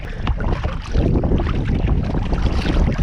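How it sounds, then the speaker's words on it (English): Wind gusts and lake waves slap and splash over the deck of a kayak, close and loud, a choppy churning roar with irregular bursts and heavy wind buffeting on the microphone. "the waves they're not huge, but they're big. They're crashing over the deck of my kayak"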